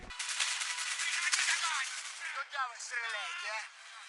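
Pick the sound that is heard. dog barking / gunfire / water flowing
gunfire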